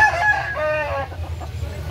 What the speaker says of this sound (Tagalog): Napakagandang manok ka.